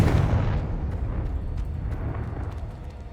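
A Confringo blasting spell explodes in Hogwarts Legacy: a loud, close burst with a heavy low boom that rumbles and decays over a few seconds, no voices over it.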